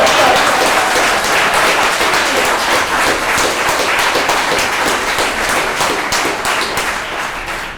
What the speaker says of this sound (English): Give Matt a round of applause.